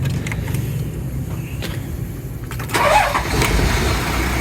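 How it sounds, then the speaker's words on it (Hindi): Engine of a 1988 Toyota Land Cruiser 60 Series turning over and catching partway through, the rumble swelling and settling into a steady running drone, close by with no talk. "इंजन की स्टार्टिंग वगैरह इस वक्त बिल्कुल ठीक है"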